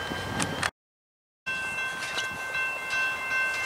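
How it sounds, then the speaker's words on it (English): An intermodal freight train rolls southbound on the number 2 track, a steady rumble with a sustained horn-like tone, broken by a short dropout of silence before the sound resumes. "here comes another train southbound on the number 2 track"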